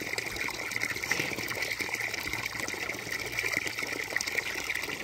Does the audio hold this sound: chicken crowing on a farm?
no